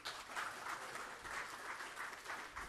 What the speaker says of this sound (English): Applause to those people.